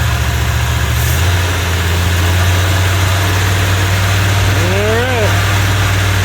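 A 1984 Ford E150 camper van engine runs on questionable fuel with a loud, steady low rumble and drone close by, pitch shifting once as the revs rise briefly, with someone speaking a single word over it.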